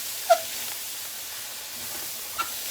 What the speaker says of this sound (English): we're just going to start stirring